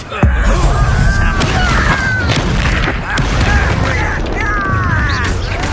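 Confringo blast spells going off in Hogwarts Legacy combat, loud booming explosions layered with whooshing magical effects and clattering impacts, under shouted spell incantations.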